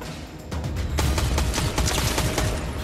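Rapid video game gunfire from a single weapon, a sustained loud burst of crackling shots that kicks in after a half-second of quieter action and keeps hammering close up.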